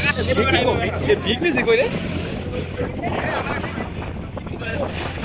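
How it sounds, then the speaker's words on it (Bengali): Strong sea wind buffets a boat off Singapore's islands near a busy cargo port, a steady rushing roar with a low engine hum underneath and faint voices in the background. "সামনে অনেক বাতাস,"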